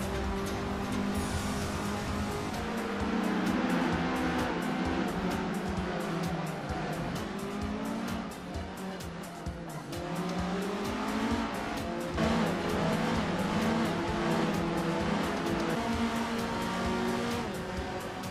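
A vintage race car laps a circuit in a racing video game, its engine loud and continuous as it revs up and down through gears, with tire squeal and repeated changes of pitch as it accelerates and brakes.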